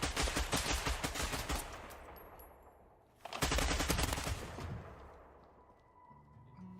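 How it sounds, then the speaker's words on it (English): Suppressed rifles crackle in a video game firefight: a long burst of rapid, dense shots, a short pause, then a second loud volley that fades into quieter background noise. "So all of the mercenaries are running suppressed rifles. And even with the sound, suppressed weapons, they're still loud."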